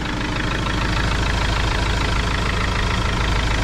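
An Iveco diesel van engine idles with a steady, close rumbling clatter, constant and loud throughout with no talking.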